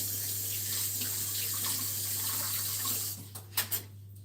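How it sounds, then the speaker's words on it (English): Cold water runs steadily from a tap into a sink during handwashing in a home kitchen, a continuous close hiss that stops near the end, followed by a few faint drips and small clatters. "Let me wash my hands with cold water."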